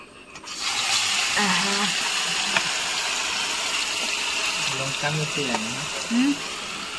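Water pours steadily into a cooking pot outdoors while chicken curry is being made. A continuous rushing hiss runs under several people talking nearby.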